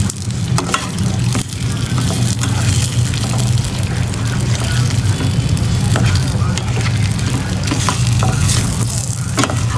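Shrimp cooking briefly in a hot pan gives a loud, steady sizzle with crackling and intermittent stirring scrapes, with a voice faintly present in the background.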